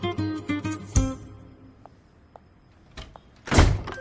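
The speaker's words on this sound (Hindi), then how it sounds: "दरवाजा।" A door opens with a thump near the one-second mark, then small clicks follow, and a loud heavy bang comes toward the end, close and distinct against a quiet room.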